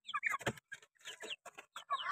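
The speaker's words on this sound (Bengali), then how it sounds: "এই যে মুরগি আছে" Domestic chickens kept alongside pigeons at a home cluck in a series of short, close, fairly loud bursts with brief pauses between them.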